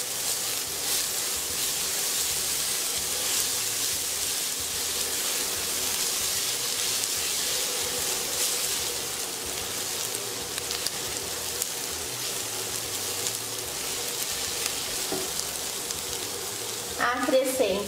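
Onion and garlic sautéing in olive oil in a cooking pot, a steady bright sizzle running the whole time, with a few clinks of stirring near the end.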